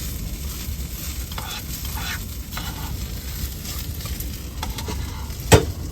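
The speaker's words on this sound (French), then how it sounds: "Un petit riz sauté curry avec des petits oignons." Curry rice with small onions sizzles in a hot pan, with steady frying hiss and scattered scrapes of stirring, closing on a sharp clack of the utensil against the pan.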